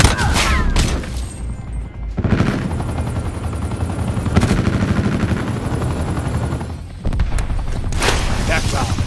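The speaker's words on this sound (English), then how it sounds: "Establish sniper helicopter on my grid." A sniper helicopter in Call of Duty: Black Ops 4 gameplay, with a steady rotor drone mixed with bursts of gunfire, thuds and booms, loud and busy throughout.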